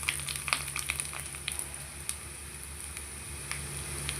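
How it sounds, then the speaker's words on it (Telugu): Cumin, mustard seeds, garlic and dried red chillies fry in hot oil for sambar, giving a steady faint sizzle with scattered small pops and crackles, fairly close and quiet. "మనకి సాంబార్లోకి కొంచెం జీలకర్ర ఎక్కువగానే వేసుకోవాలి. కొన్ని ఆవాలు, కొంచెం మనకి ఎల్లిపాయలు ఎర్రగా వచ్చిన తర్వాత ఎండుమిర్చి వేసుకోవాలి."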